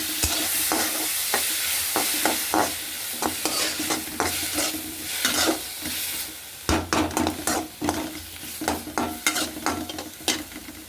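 Ingredients for an egg curry sautéing in a pan, a continuous sizzle with frequent sharp scrapes and knocks of a spoon growing quicker toward the end, close up and with no voices.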